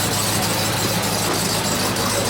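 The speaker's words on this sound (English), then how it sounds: "Hopefully it's warmed up enough where you can hear the cam nice and clear." A 426 Hellephant crate engine with a big cam idles in a Ram TRX at a gas station, a loud, steady, close rumble with a choppy lumpy character throughout.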